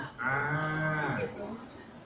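A voice imitates a cow, giving one long, close, drawn-out moo that bends downward in pitch and fades, alone without other talk.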